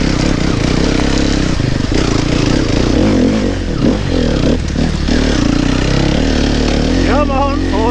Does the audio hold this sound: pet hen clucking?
no